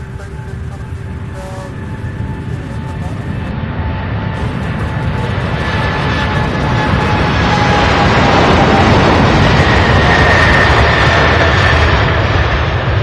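A UPS cargo plane at Louisville International Airport spools up its engines and begins rolling, a loud broadband roar that swells steadily and holds, with a faint whine early on.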